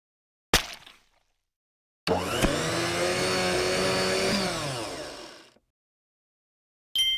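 A blender in a children's learning game makes a smoothie, giving one loud whirring burst of about three seconds that spins down, with short clicks before and after.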